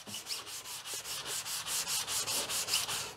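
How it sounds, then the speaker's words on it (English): Rhythmic back-and-forth rasp of a wet sanding sponge sanding primer off a door jamb, steady strokes close up, about a dozen in quick succession. "You see how easy that primer just sands right out?"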